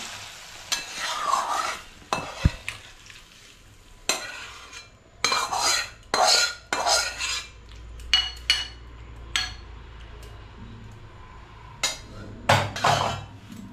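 Bitter gourd and potato curry scraped from a pan into a bowl. A spoon knocks and scrapes against metal in uneven bursts, close and clear, with quiet stretches between strokes and no talk.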